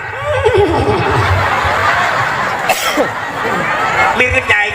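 A voice imitates a horse whinny during a lively Sundanese comic sermon, a wavering neigh-like cry mixed with chuckles and excited chatter from others.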